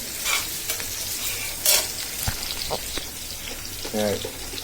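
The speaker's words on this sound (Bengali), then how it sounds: "পাতাকপি ভাজি পেঁয়াজ রসুন কাঁচামরিচ ফেলে দিয়ে দিলাম" Cabbage frying with onion, garlic and green chili in a pan, a steady sizzle with occasional stirring scrapes and clinks, close by.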